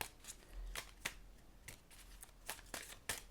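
Tarot cards are shuffled in quick, crisp riffles and slaps, several sharp bursts over a few seconds, close and quiet with no speech.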